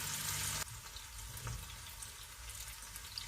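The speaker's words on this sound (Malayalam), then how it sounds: "ഇത് ഫിഷ് ഫ്രൈ ചെയ്യാൻ ഇട്ടിട്ടുണ്ട്." Anchovy fish fry in a pan, a soft, fairly quiet sizzle continuing throughout, slightly louder and brighter for the first half second before settling, with no voices.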